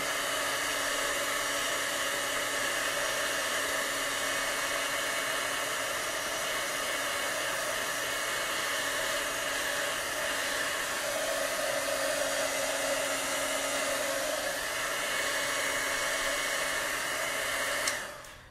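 A handheld heat tool blows steadily and close for the whole stretch while drying chalk paste on a chalkboard, an even, rushing hum that cuts off abruptly at the end.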